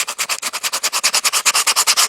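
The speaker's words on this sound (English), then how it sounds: "I've been hand sanding, trying to clean up around here." Rapid back-and-forth scratching of folded sandpaper rubbed by hand over a cracked dashboard pad on a third-generation IROC Z28, about twenty even strokes in a quick steady rhythm, close and loud.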